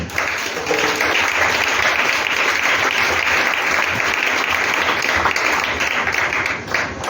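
A church congregation applauding during a service, with dense, sustained clapping filling the space at full volume from start to finish.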